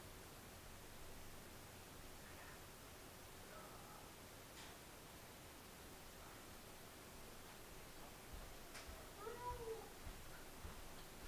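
A kitten gives a few faint, soft meows toward the end, over a quiet indoor background hiss.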